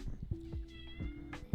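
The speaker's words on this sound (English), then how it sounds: "Stop meowing at me." A cat meows insistently indoors, several drawn-out calls spaced across the moment, fairly close and loud against a quiet room with no talking.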